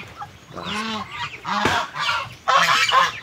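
Domestic geese honking close by while being fed, several loud nasal honks in a few short bursts with brief pauses between them.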